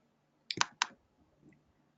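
Two or three crisp computer mouse clicks land close together, sharp and near in a quiet room, followed by faint soft ticks.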